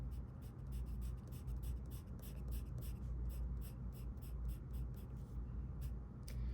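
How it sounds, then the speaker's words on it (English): A pencil makes hatching strokes on paper as quick, evenly spaced scratchy strokes in a steady rhythm, close up and fairly faint over a low background hum. "Hatching is a type of shading using lines going in one direction."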